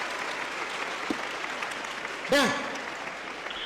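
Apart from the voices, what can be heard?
audience applause in a played recording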